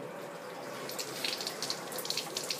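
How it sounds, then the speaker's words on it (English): Water runs steadily from a water ionizer tap while it is being flushed, a continuous close splashing stream with small gurgling spikes toward the end. "I'm going to continue to let the water run until it's flowing clear"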